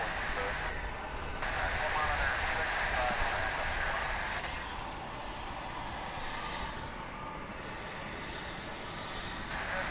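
An American Airlines jet bound for San Antonio departs DFW International Airport, heard as a steady, broad engine roar at a distance that swells and then slowly eases.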